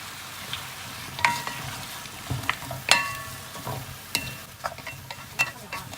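Chicken and vegetables stir-fried in a pan at home: a soft continuous sizzle under repeated scraping and clinking of a utensil against the pan, in irregular strokes close up.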